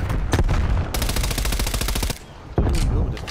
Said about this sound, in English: enemy sentry turret detected in your AO